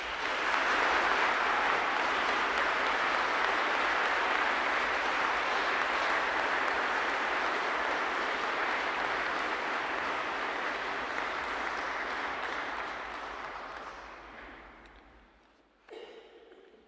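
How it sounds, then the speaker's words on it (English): A university graduation ceremony audience gives a long, steady round of applause that holds for many seconds and then gradually fades away. "show our joint appreciation of their unwavering commitment to your education with a round of applause"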